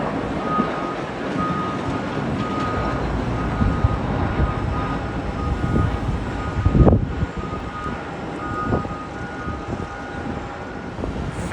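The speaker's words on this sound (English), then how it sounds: "FinnAir's A321 arriving from Helsinki" A Finnair Airbus A321 arriving at Heathrow from Helsinki rumbles past as a broad, steady jet roar with wind noise, swelling briefly around the middle as it passes nearby.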